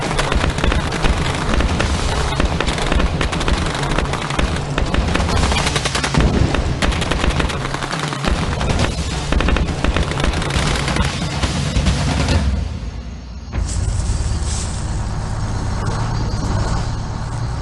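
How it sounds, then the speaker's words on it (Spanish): Loud, sustained bursts of rapid gunfire from a coup attempt in Guatemala rattle on for a long stretch, then break off into a dull rumbling background with a few scattered sounds. "Se oyó el primer disparo del intento de golpe de Estado."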